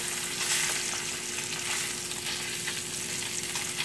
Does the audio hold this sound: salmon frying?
yes